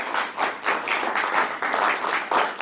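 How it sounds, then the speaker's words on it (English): Congregation clapping hands at a Sunday worship service, dense rhythmic applause in pulsing waves, fairly loud and close, no voices over it. "Clap your hands for yourself in this moment."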